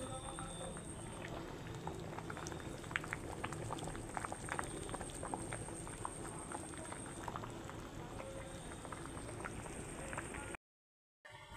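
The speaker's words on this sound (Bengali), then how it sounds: "এই দেখুন ফুটে গেছে, কি সুন্দর ফুটছে এখন।" Vegetable khichdi with Gobindobhog rice boils steadily in a pot, a continuous close bubbling with scattered pops and crackles that runs nearly the whole clip before cutting out briefly at the end.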